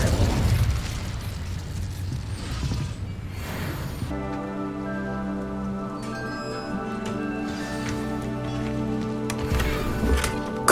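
Incendio fire spell blasts in the Hogwarts Legacy video game: a dense, roaring burst of flame noise fills the first four seconds, then gives way to sustained tonal game music with a few faint pops, with no talk.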